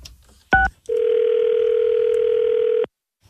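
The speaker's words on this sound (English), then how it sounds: "I'm going to call Jeff Jarrett now" A telephone call being placed: a brief higher tone, then one steady ringback tone held for about two seconds, loud and clear, with no talking over it.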